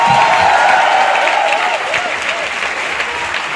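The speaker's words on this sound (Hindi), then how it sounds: "तालियां होनी चाहिए" Loud, dense applause from an audience at a live motivational meetup in Jaipur fills the whole stretch, with some whistling and cheering mixed into the steady clapping.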